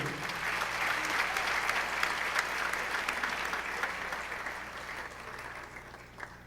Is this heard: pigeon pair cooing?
no